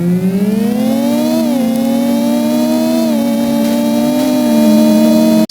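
Car engine sound from Need for Speed Carbon on the Nintendo DS, a loud compressed, whiny synthetic engine tone that holds steady with small pitch dips and rises.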